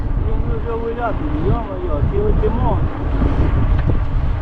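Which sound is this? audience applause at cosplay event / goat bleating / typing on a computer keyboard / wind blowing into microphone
wind blowing into microphone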